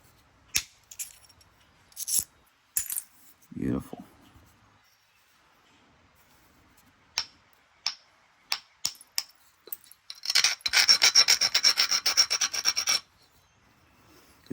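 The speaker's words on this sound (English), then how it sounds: "get the edge of your abrader down in there and get that lateral grind on that very edge in there" An abrader rasps against the wood edge of an Easter dovetail joint. Scattered taps and scrapes come first, then a run of quick, rhythmic grinding strokes lasts a few seconds, close and clear.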